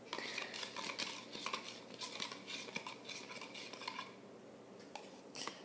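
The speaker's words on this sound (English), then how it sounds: "Now get your spoon and start stirring." A spoon stirs a homemade love potion, clinking and scraping against the container in quick irregular bursts, fairly quiet and close, with no voices.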